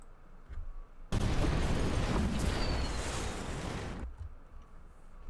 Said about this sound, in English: I'll find just a thud sound that I have